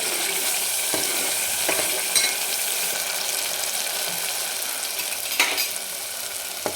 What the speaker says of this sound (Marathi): परतून घेऊ एकदम असं तेल सेपरेट झालं पाहिजे